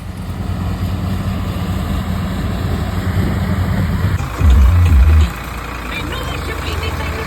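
A Farmtrac 60 tractor engine idles with a steady low rumble, briefly deepening into a heavier throb near the end before settling back, with faint voices in the background.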